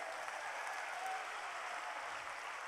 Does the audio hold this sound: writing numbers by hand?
no